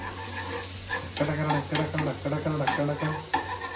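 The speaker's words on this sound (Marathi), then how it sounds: "मस्त ती आता ढवळून घेतो." Garlic, chili and coriander cook in melted butter while being stirred, producing a close, hissing sizzle with repeated scraping and clattering strokes of the spoon against the pan.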